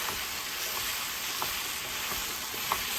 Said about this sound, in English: We're gonna add our beef in here.